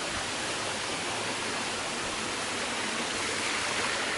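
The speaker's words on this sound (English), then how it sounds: "goes under the bridge, comes out the other side, and runs on down the waterfall" Steady rushing water of a stream pouring down a small waterfall, splashing continuously, a dense even hiss with no voices, close and fairly loud throughout.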